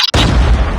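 A frag grenade goes off in a video game: a single loud, close, sharp boom after a short hush, followed by a brief rumbling tail.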